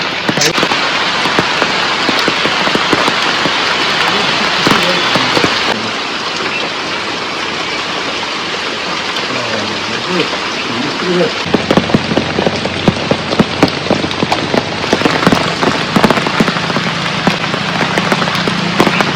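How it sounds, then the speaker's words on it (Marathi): Heavy monsoon rain pours down steadily in Konkan, a loud, dense hiss of drops striking close by, with sharper patters scattered throughout. "पाऊस जोरात आला"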